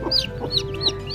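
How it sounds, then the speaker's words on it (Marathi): Newly hatched chicks of a pet hen chirp in a repeated run of high, thin peeps, close and clear, with no talking over them. "चिवचिव करत आहे भरपूर, चिवचिव करत आहे मस्त पैकी"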